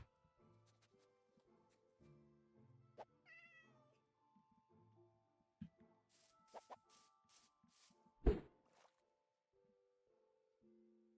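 Cat meowing in a video game, with several short meows scattered among game sound effects and faint music, fairly quiet overall.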